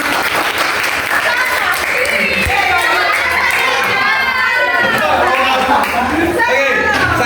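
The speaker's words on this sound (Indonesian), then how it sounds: "Tepuk tangan buat kalian semuanya." A classroom of students claps together in dense, steady applause that fills the room, with children's voices calling out over it.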